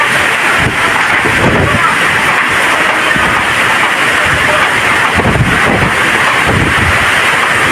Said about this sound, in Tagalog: Kasi malakas talaga ang hangin.